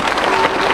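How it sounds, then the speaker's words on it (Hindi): An audience claps loudly at a chief minister's public meeting in Gharghoda, Chhattisgarh, a brief continuous burst of crowd applause with no voices rising above it. "जोरदार ताली बजाओ।"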